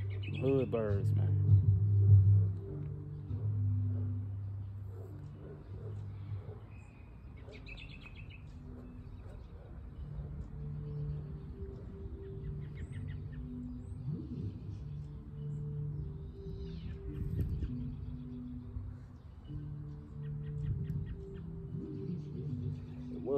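Outdoor birdsong in early spring in a city neighborhood, with scattered faint chirps and tweets in the background under steady low ambient noise and someone talking.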